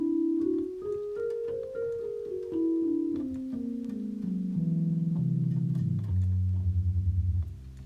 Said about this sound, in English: So it makes a 6-note scale that sounds like this.